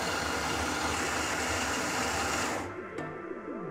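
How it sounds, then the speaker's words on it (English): An HLF coffee grinder grinds coffee into an espresso group handle with a loud, steady motor whir and buzz that cuts off near the end, leaving a descending spin-down whine. "take my group handle, pop it in this HLF grinder we've got"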